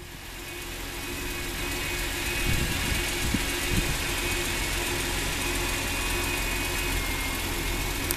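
A 2007 BMW Z4 M Roadster settles into a steady idle after start-up, with a close, even engine hum and a slight vibration holding at a constant level throughout, with no talking.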